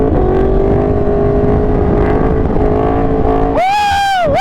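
A Yamaha R1 motorcycle engine roars loud and steady, then rises sharply in a high revving surge as it accelerates hard near the end, with wind buffeting throughout.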